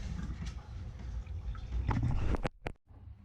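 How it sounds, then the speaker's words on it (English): Water trickles and drips from the freshly cleaned sight glass tubing of a steam boiler, a soft, close, irregular flow with a few sharp clicks near the end. "Now this is coming down to a trickle."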